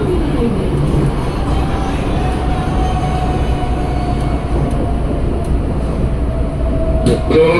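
Tokyo Metro 6020 series KRL commuter train on the Cikarang line running at speed near Kranji, a steady loud rumble of wheels and motors with a faint whine throughout.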